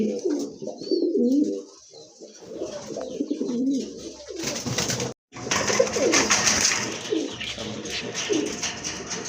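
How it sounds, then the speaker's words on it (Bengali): Suachandan pigeons coo in soft, repeated rolling phrases at close range, steady throughout with a brief gap midway, and no talk over them. "আরেক জোড়া কবুতর সুয়াচন্দন কবুতর"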